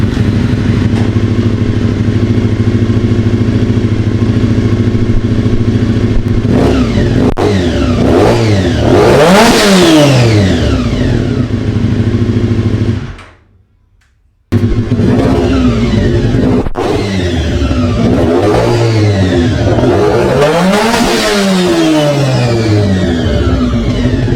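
A Honda RVF400 NC35 motorcycle engine revving hard and close, repeatedly climbing to a high-pitched scream near redline and dropping back. The sound cuts out briefly, then a second run of sweeping revs follows.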